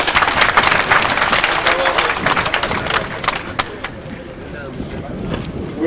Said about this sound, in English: Please let's give me a round of applause.